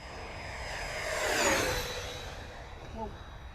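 A Freewing F-14 Tomcat radio-controlled electric jet makes a fast full-throttle pass, a rising then falling whine with a clear Doppler sweep peaking midway, moderately distant over outdoor ambience, with a brief voice near the end.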